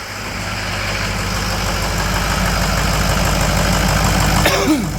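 A project truck's engine idles with a loud, steady, close-up rumble that holds evenly throughout, broken only by a brief faint squeak near the end.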